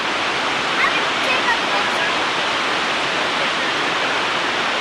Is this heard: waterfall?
yes